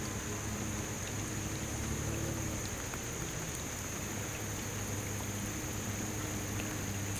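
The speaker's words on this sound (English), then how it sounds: "It just now started to drizzle" Light drizzle falls steadily around a fishing boat, a constant soft hiss of fine rain with no other distinct sounds.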